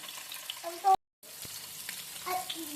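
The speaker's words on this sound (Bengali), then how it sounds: "এবার পনিরগুলোকে আমরা আস্তে করে ছাড়বো" Paneer cubes going into hot oil for a vegetarian dish, a soft steady sizzle with stirring clinks, interrupted by a brief loud clatter and a moment of silence before the frying resumes.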